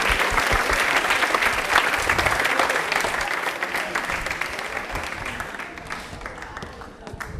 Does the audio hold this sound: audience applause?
yes